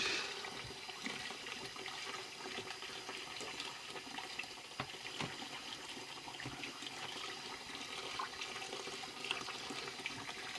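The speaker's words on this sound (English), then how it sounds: "Let's add some more water." Water splashes and trickles steadily into a container to dilute bleach, a soft, continuous liquid rush with faint gurgles and no talking.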